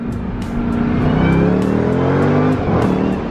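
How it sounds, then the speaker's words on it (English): A fast car accelerates hard with a high supercharger-like whine climbing over the engine roar, heard from inside the cabin, with a brief dip as it shifts before pulling again. "it actually whines like a freaking Hellcat"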